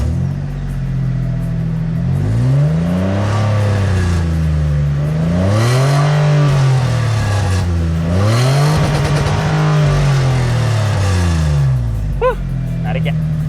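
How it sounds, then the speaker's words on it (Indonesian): Engine of a Mitsubishi Pajero Evolution revving close by, with several sweeping throttle rises and falls over a steady loud drone, ending in quieter idle. "yuk kita coba dengar suara mobilnya."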